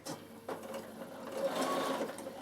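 Bernina sewing machine sewing a seam on a summer peak cap, a brief start and stop then a continuous close motor whir of rapid stitching, with faint handling sounds.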